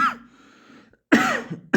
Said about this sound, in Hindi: देखिए खांसी अभी तक